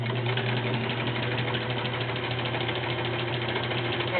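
A vintage Kenmore 1774 sewing machine stitches through five layers of thick Levi's denim, its motor and needle running as a steady, continuous whir and rapid mechanical chatter close by, with no pauses.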